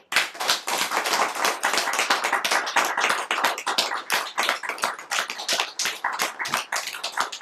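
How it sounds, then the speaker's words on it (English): A conference audience gives Hans a round of applause at the 12th annual International Sanatana Dharma Conference, dense sustained clapping from many hands filling the room without letup. "Round of applause."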